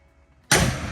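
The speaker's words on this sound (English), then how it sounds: "Yeah, door shut perfect." A door on a 1971 Chevrolet K10 truck cab swings shut with one sharp, solid slam, loud and close, that fades quickly with no other sound around it.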